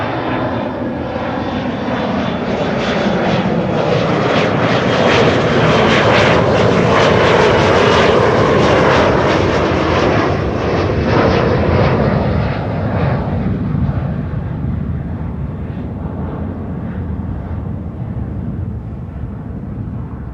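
A KLM Embraer jet departs Amsterdam Schiphol, its engines building into a loud, close roar that peaks midway and then gradually fades as it climbs away.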